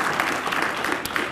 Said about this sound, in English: Give her a round of applause, too, if you would be kind enough to do that.